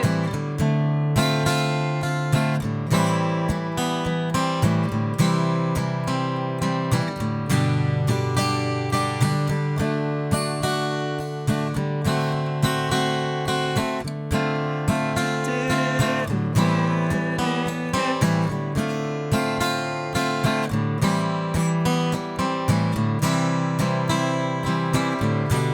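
Guitar playing the pre-chorus chords of a song, a steady strummed progression with a full, continuous sound and regular rhythmic attacks throughout, no voice over it.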